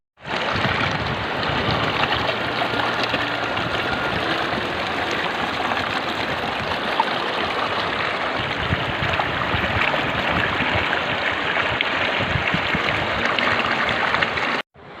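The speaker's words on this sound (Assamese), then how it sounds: "বৈ যোৱা নদী, শিল" A river flowing over stones near a grassland in northeast India, a steady, dense rushing wash of water heard close and continuous for the whole stretch, with no voices.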